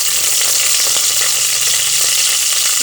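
Whole spices (carom seeds, cinnamon, bay leaves, cloves and cardamom) sizzle loudly and continuously in hot oil for the tempering of a chicken gravy, with a close, bright crackle and no voices.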